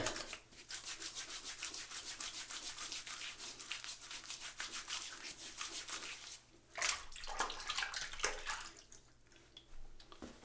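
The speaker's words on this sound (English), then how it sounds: "applying the Phoenix Artisan Accoutrements pre-shave cube, or what's left of it, to 2 days growth" A Phoenix Artisan Accoutrements pre-shave soap cube is rubbed onto two days of facial stubble, making close, steady scratchy rubbing strokes with a few brief pauses and no talking.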